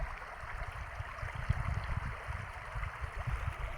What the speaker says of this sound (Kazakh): Су ағып жатыр.